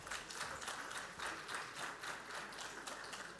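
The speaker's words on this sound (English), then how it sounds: "A big round of applause for our performer, Mr. Suramya Pushan Das Gupta." Audience applause for a performer at the opening ceremony of an awards event, a steady broadband patter of many hands clapping with faint surges, moderately distant and sustained throughout.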